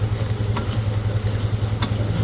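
Spices with chili powder and turmeric sizzle steadily in a hot pan, a close, continuous frying hiss with faint stirring scrapes.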